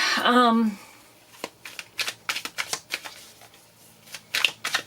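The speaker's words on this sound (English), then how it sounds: "So I'm going to just kind of shuffle these and clear the decks" Oracle cards being shuffled by hand, a quick run of crisp riffling and tapping snaps that follows a brief burst of talking at the start, close and moderately loud.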